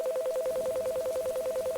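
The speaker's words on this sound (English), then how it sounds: "Is there a phone ring in the background?" A phone in the video game The Divine Invasion gives a rapid, even electronic trill that pulses steadily and quietly throughout.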